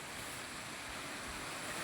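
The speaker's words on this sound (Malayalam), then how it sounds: "നല്ല മഴ ആയതുകൊണ്ട് നല്ല കാറ്റുണ്ട് കേട്ടോ." Heavy rain and strong wind on a stormy day, a steady broadband roar and rush that stays loud and unbroken throughout, with no voices.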